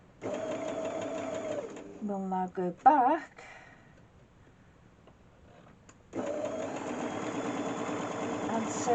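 Sewing machine stitching a quarter square triangle seam, a steady close mechanical whir running in two stretches with a quiet gap between, while a voice talks briefly over the middle.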